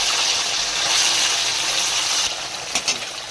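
Paneer pieces frying in hot white oil in a wok, giving a steady close sizzle and hiss with a few brief clinks near the end.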